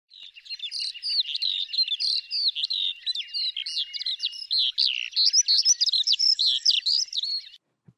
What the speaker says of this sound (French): le chant que je viens de vous partager est celui de l'alouette des champs.